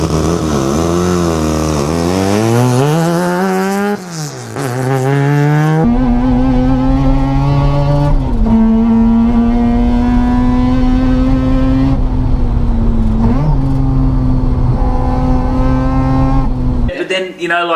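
Peripheral-ported rotary engine in a Toyota Corolla, loud and close while driving, revving up through the gears with a steady droning tone and rising pitch between shifts, with voices talking underneath.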